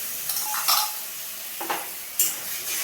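Whisked yogurt being added to a bitter gourd curry in a pan, heard as a soft steady sizzle with a few brief scraping stirs and clinks of a utensil, close and moderately quiet.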